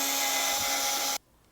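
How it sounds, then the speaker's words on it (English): A power drill fitted with a 1/4 inch bit whirs steadily at close range, boring through chocolate over a cup, then cuts off abruptly. "we're going to take our drill and our 1/4 inch drill bit"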